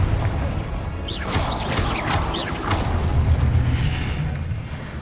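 A Confringo blasting spell from Hogwarts Legacy gives a sustained rumbling roar with whooshing, crackling bursts through the middle, loud and continuous for several seconds.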